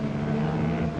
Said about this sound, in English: but the engine sounds clean enough